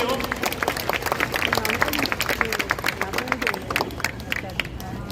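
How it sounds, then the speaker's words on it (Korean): Crowd applause at a rally in Daegu, with scattered claps over a background of murmuring voices and babble, steady for several seconds. "큰 박수로 해주십시오."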